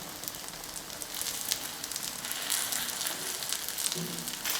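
A plain egg omelette fries in a pan for Indian street food, giving off a steady, soft crackling sizzle with small pops throughout.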